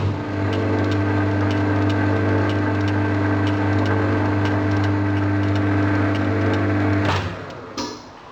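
A metal lathe runs steadily while threading at 6 TPI on an iron casting for a vise nut, a loud sustained motor hum with a faint repeating tick, then a sudden stop and a brief clunk as it winds down.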